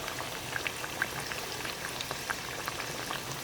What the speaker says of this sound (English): We do not want to fry these too fast.